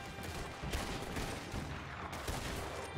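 Rapid gunfire in Red Dead Redemption Online, a dense burst of overlapping shots filling the whole moment, loud and continuous with no talking.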